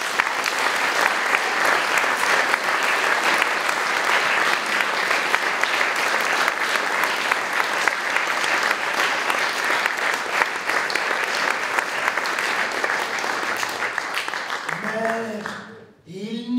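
Sustained, dense applause from a theatre audience for the association volunteers who help out each show night, holding steady for a long stretch before fading as a voice starts talking.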